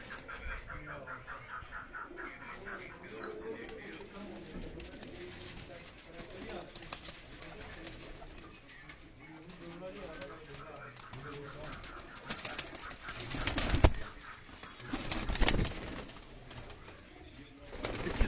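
Tunia pigeons coo softly in a loft while someone talks over them. A few sharper bird sounds and flaps come through near the end.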